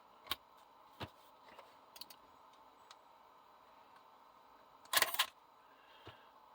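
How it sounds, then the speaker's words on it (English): Pentax ZX-M film camera, heard as a few isolated soft clicks spaced apart, then a louder whirring snap of the shutter firing close by, followed by one more faint click in a quiet room. "Shutter goes."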